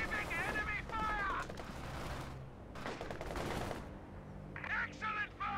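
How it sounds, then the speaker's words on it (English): Enemy gunfire in Company of Heroes 2 comes as scattered rapid bursts and distant booms of battle, mixed with shouted voices calling out orders. "Receiving enemy fire!"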